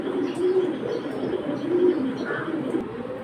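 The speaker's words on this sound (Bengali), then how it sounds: "এগুলো হচ্ছে ওনাদের ফ্লায়ার কবুতর" Flyer pigeons at a pigeon market coo nearby in low, throaty rolling calls, several overlapping, with faint chirps in the background.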